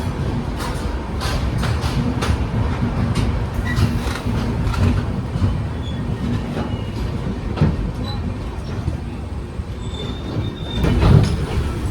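Mangaluru Express 16347 pulls out of Thiruvananthapuram Central, with a steady loud rumble of rolling coaches, wheel clatter and occasional high squeals that persist throughout.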